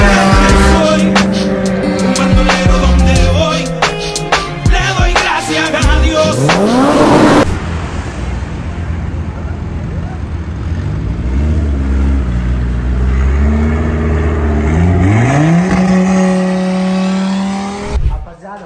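Tuned stage 3 Volkswagen Jetta engine fitted with a flutter valve, revving loudly and close, with harmonic rises and falls and sharp bursts over a steady roar; people talk over it.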